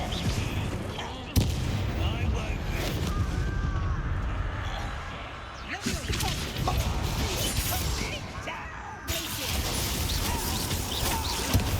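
The Bombarda blasting spell in Hogwarts Legacy lets off dense, loud crashing bursts, a sharp hit near the start and fresh blasts around six and nine seconds, over a busy background of game sound.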